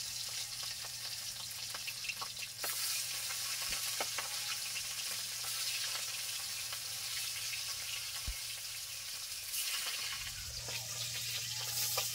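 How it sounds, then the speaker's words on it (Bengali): Pieces of belly fish fry in a pan in a village home kitchen until they turn deep red. A steady, even sizzle runs the whole time, with a low hum beneath and a few faint clinks. "লাল টুকটুকে করে মাছ ভেজে নিয়েছি"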